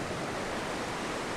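Steady broadband wash of sea waves breaking on Karmatang Beach, a continuous soft roar at moderate distance with no distinct individual crashes and no voices.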